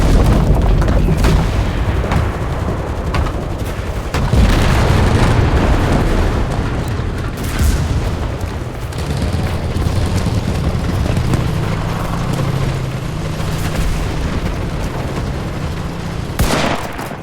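An artillery barrage in the video game Enlisted pounds away with loud, continuous booming explosions and scattered gunfire, rumbling densely from start to finish.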